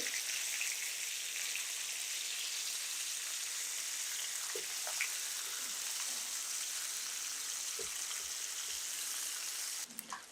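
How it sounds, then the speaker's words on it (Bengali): A large fish fries in a pan of oil, giving a steady, soft hiss of sizzling with a few faint clinks near the end and no talking. "তিন মিনিট আমি এক সাইড ভেজে নিয়েছি, এটা উল্টিয়ে দিচ্ছি।"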